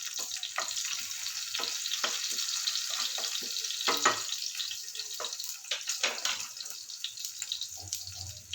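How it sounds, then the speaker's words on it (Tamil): Mustard seeds and spices crackle and sizzle in hot oil in a pan for a Tamil gooseberry fry, with sharp popping bursts over a steady hiss, close and moderately loud. "கடுகு இந்த பக்கம் பொரியட்டும்."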